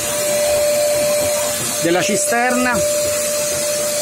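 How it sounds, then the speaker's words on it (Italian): A vacuum cleaner blows air into the bottom of a water cistern, a loud, constant whooshing hiss, while someone talks briefly over it. "Sto usando l'aspirapolvere per soffiare aria all'interno del fondo praticamente"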